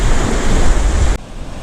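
Ocean surf rushes and splashes onto the shore at Seagrove Beach around sunrise, loud and close with steady broadband noise and wind buffeting, cutting off abruptly partway through.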